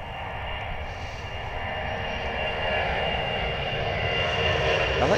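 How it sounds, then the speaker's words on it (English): A US Air Force C-17 military transport aircraft roars steadily at a distance, its jet engine noise building gradually and holding as a broad, continuous rumble. "the US Air Force C-17"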